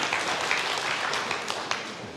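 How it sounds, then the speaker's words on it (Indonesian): A congregation applauds during a church sermon, a brief burst of massed clapping with a few sharper individual claps standing out near the close. "Berikan tepuk tangan"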